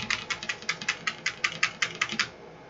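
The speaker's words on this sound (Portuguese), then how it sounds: "Deve estar até captando o barulho do teclado" Computer keyboard keys are pressed in a quick, uneven run of a dozen or so crisp clicks, close and clear, while a PC's BIOS setup is being navigated, with no talking over them.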